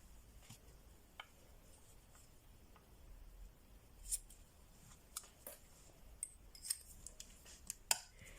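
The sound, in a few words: scissors cutting ribbon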